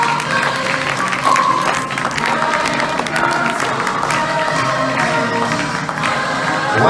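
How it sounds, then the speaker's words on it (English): An audience applauds a Navy veteran at a military appreciation event, steady clapping and scattered cheers filling the room without a break. "Stand on up and give this gentleman a wonderful round of applause"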